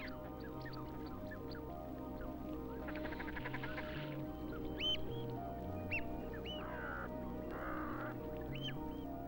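Shelduck and other waterfowl call over tidal shallows: repeated short bright quacking and honking calls at moderate distance, one raspy burst near the start and another later, over a steady low background hum.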